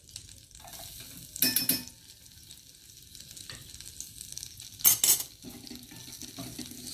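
Garlic sizzles in melted butter in a pan for a cheese sauce, a soft constant frying hiss broken by two louder bursts of stirring and scraping against the pan.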